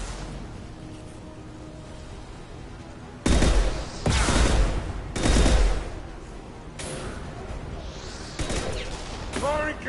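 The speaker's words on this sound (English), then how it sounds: "Firing concussive shot" Concussive shot and gunfire in the video game Mass Effect 2: a few heavy booming blasts and rattling bursts of fire, loud and close, with voices speaking over the combat.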